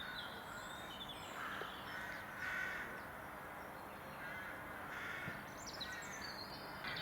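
Crows in a conifer near a railway nature site in Kent, giving several faint, scattered caws at a distance, mixed with other bird chirps over a steady outdoor background.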